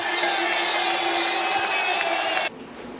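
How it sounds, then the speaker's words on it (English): Basketball arena crowd murmuring and cheering loudly in a sustained wash of voices after a layup, the roar cutting off abruptly near the end. "Oohs and ahs from the crowd."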